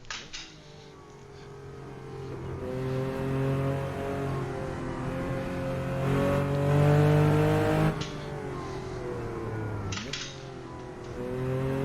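A car driven along a Scottish Highlands road in a racing simulator, the engine droning steadily and climbing in pitch through long revs, with shift breaks around the middle and near the end, loud and close with no talk.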